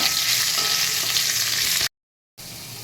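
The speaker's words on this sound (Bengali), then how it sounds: "কতগুলো আলু একটু ভেজে নেব আগে।" Cut potatoes fry in hot oil over a hing tempering for a vegetarian banana-flower curry, giving a dense, continuous sizzle. It stops suddenly in a brief gap of silence, then resumes just as loud.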